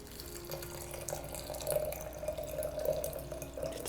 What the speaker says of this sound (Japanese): で、お湯を入れます。